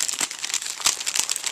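Plastic food packaging crinkles and rustles up close as it is unpacked by hand, a steady crackle with a few sharper crunches and no speech.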